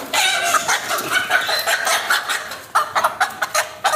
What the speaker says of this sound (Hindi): ये हमारे रू का दबंग मुर्गा है